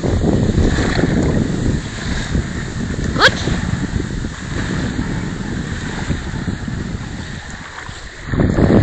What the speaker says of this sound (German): So große Welle.